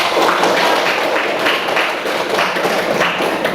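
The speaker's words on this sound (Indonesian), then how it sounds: "Tepuk tangan dong untuk Rahma." Students in a classroom applaud a classmate, a dense and steady wash of many hands clapping together, loud and close, holding at an even level for several seconds with little talk in between.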